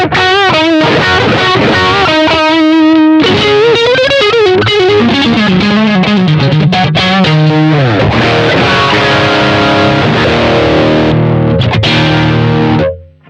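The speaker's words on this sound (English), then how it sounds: "Now we go over here, full gain. You're gonna hear that there is a lot of more mids." Electric guitar built from a Harley Benton DIY kit played at full gain, heavily distorted with thick mids: fast riffing and bends give way to loud, sustained crunchy chords that cut off abruptly at the end.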